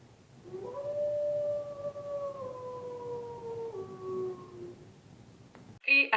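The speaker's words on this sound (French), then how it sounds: "une des loups qui était couchée en train de hurler au lever du soleil" A wolf lying down howls at sunrise, one long, sustained, slowly falling howl that carries for several seconds and then fades, followed by a brief burst of noise.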